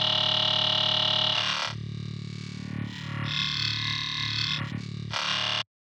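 Wavetable synth holding a low D0 in octaves, a buzzy, distorted sustained drone whose timbre shifts and morphs partway through before cutting off abruptly.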